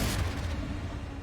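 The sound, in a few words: Confringo explosion spell in a Hogwarts video game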